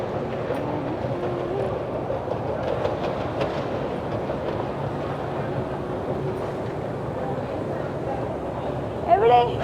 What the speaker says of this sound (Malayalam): ഇതാണ് റഷ്യൻ മെട്രോ.